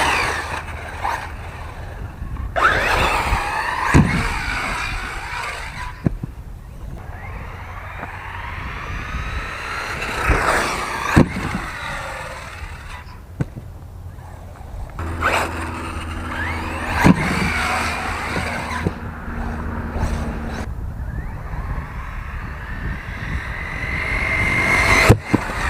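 Electric motor whine of an Arrma Talion RC truggy on worn, ungripping tires coming unglued, rising and falling in repeated high-pitched passes, revving and fading with distance, no talk.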